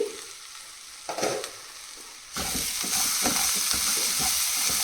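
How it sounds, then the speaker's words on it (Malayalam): A banana blossom stir-fry is stirred in a pan. Quiet scrapes come first, then a loud, steady sizzle sets in, broken by repeated scraping strokes. No voices. "ഇത് നല്ലോണം ഇളക്കുക."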